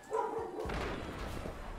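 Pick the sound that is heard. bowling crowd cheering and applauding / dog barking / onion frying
dog barking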